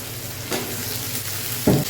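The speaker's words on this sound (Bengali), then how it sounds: "আলুটাও আমি পেঁয়াজের সাথে একসাথে ভেজে নেব" Potatoes and onions frying together in oil in a pan, a soft steady sizzle with a couple of brief louder stirring scrapes, close up with no voices.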